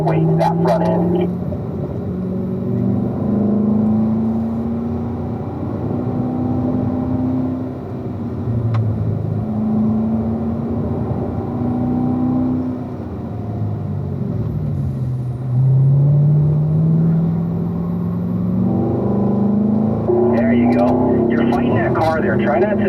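A car engine drones and rises and falls in pitch as it accelerates and lifts through corners on the Spring Mountain race track, with a person talking steadily over the engine noise.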